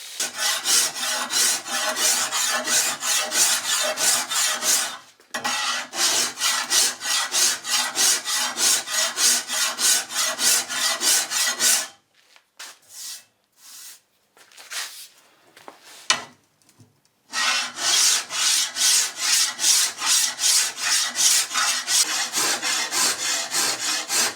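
A forged katana blade's tip is ground flat by hand in a workshop, giving steady rhythmic rasping strokes that pause for a few seconds midway before resuming, close and loud with no talk.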